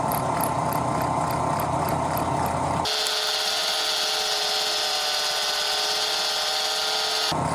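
A lathe or machining cut on a Colt crankshaft gives a steady, loud high-pitched whine and hiss that begins partway through and runs continuously, cutting off abruptly near the end, with no talk.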